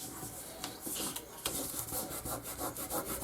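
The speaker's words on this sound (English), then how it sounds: "And just rub with my fingers any of the extra glue I have there." Fingers rub over freshly glued paper box pieces in quick, soft, scratchy strokes, faint and close, with a few short pauses between passes.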